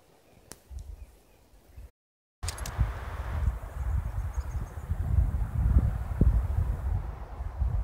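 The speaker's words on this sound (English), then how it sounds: "I love the sound of the wind in the pine trees." Wind moves through the pine trees beside Lake Fulmor in the San Bernardino National Forest. A soft rustle starts quietly, drops out briefly, then returns as a steadier, fuller whoosh of gusting air.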